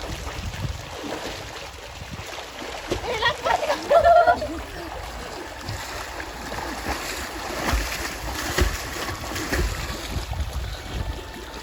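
Water splashing from people swimming in a village pond or well in summer, a steady wash of watery noise with a louder splash burst partway through, with faint voices in the background.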